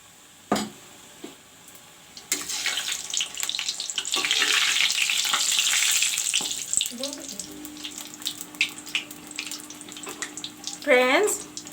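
Puas frying in hot oil, a loud hiss of bubbling that swells and fades over several seconds, with kitchen clatter and a brief tonal squeak near the end.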